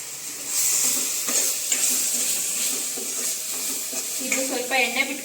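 Masala fries in oil for egg rice, a continuous close sizzle with occasional scraping stirs and bubbling, while someone speaks intermittently over it.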